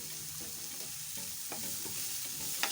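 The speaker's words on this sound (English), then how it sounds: "Mix everything together." A beef stew mixture is stirred in a pot over heat: a continuous soft sizzle with repeated scraping and sloshing strokes, close by and steady, without any speech.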